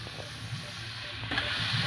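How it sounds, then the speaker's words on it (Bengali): Fenugreek leaves hit a hot pan with tomato and spices for a Bengali methi chorchori, a close steady sizzle and hiss under stirring scrapes, growing louder near the end. "এবার আমি দিয়ে দেবো মেথির শাকটা।"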